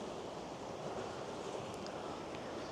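Ocean surf washes along the Godrevy coastline near the lighthouse, a steady, soft broadband rush of breaking waves blended with light wind noise, continuous and fairly distant with no distinct individual crashes.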